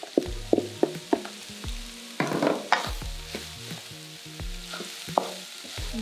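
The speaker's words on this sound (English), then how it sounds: "Add our cabbage." Cabbage and carrots frying in a pan while being stirred and mixed, with steady sizzling, a burst of louder hiss midway, and repeated clinks and scrapes of the utensil against the pan.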